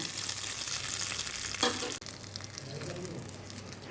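Hot tempering with curry leaves hits chutney in a sudden loud sizzle, flaring for a moment, then cutting off and settling into a steady low crackle and hiss.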